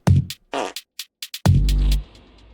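Fart sound effects used as percussion in a song, a series of short bursty farts followed by a longer, louder, low rumbling one, then a quiet tail.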